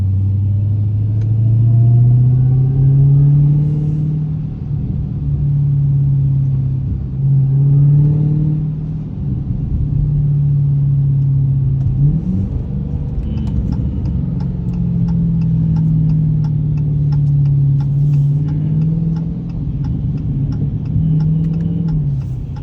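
A Dodge Hellcat's engine rumbles steadily from inside the car while driving in the rain, a deep low drone rising and falling as it revs, with faint ticking and patter over it and no talk.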